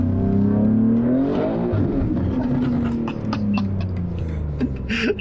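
Sports car rumbling as it pulls up to valet parking, a loud close engine note rising and falling with a rev, then settling to a lower idle with light clicks.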